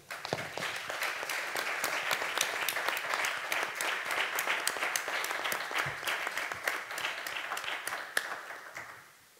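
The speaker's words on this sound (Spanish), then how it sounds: "Un aplauso para él." Applause from an audience at a film forum at a theological study centre in Valladolid, many hands clapping steadily and evenly before fading out at the end.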